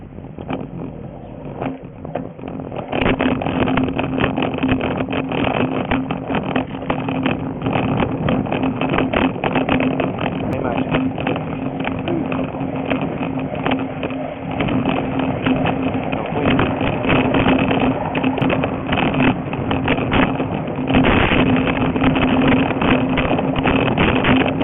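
Bike riding captured by an Intempo mini action cam produces a constant loud, muffled roar of wind buffeting and road rumble after a brief quieter start.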